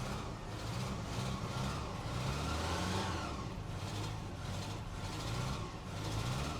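A Toyota-swapped Ram 50 engine runs roughly while trying to idle, a steady uneven mid-pitched drone with faint surges, close and alone.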